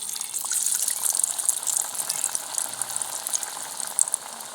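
Potato tikki fry in a pan of oil, a steady hissing sizzle with fine bright crackles throughout, close and continuous with no talk.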